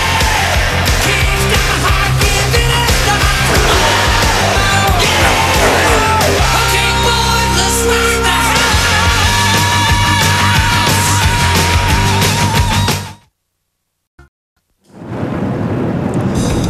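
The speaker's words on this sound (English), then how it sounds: "the sounds of 40 NASCAR Winston Cup engines that have rumbled to life once again" Forty NASCAR Winston Cup stock car engines at the 2002 Pennsylvania 500 rumble together in a loud, dense, continuous roar that drops to near silence around the thirteen-second mark before returning.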